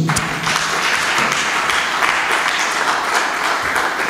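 A church congregation applauds and cheers to praise God, a dense, steady wash of clapping that fills the whole stretch loudly with no pause.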